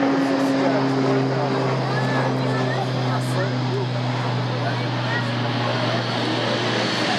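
T-6 propeller trainer aircraft at Laughlin Air Force Base, a steady loud engine drone with strong low tonal hum and broad noise, continuous throughout as if close by during taxi or takeoff.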